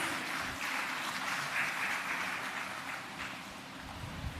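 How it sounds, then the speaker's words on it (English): An audience at a land titling ceremony applauds to welcome a speaker to the podium, a short, fairly soft and even wash of clapping heard from a distance. "A round of applause for her, please."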